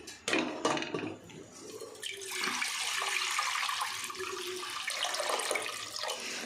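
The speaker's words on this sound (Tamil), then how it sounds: "குக்கரில் நிறைய தண்ணி வச்சு கொதிக்க வைக்கிறோம்." Water gushes and splashes steadily into a metal pressure cooker for several seconds, a close, continuous pouring sound.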